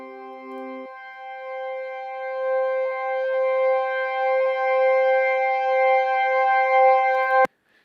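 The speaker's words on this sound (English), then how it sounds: "you can hear that it's the higher octave of the pad that's already happening" A sustained synth pad pitch-shifted up a full octave in Logic Pro, playing alone as steady layered tones that hold for several seconds, with a brief lower note at the start, before cutting off abruptly.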